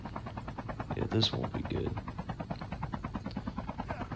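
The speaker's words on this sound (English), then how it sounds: "I hate the chopper's controls." A helicopter in Call of Duty Mobile chops with a fast, pulsing rotor beat that runs throughout and stays prominent under a voice.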